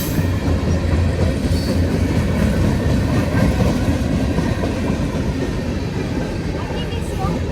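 CSX freight train with a New York Central heritage unit rolling past, a steady loud rumble of cars on the rails throughout, with faint speech underneath.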